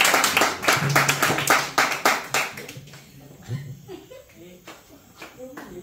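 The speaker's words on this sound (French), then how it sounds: "Acclamons pour sa vie." A congregation at a church gathering in Bouaké, Ivory Coast, breaks into a burst of hand clapping that lasts about three seconds, then fades as voices speak over the room.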